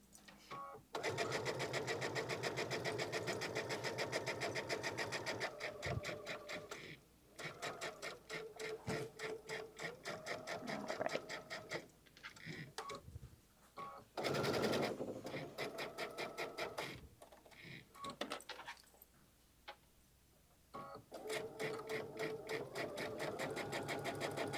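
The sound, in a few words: sewing machine stitching a pocket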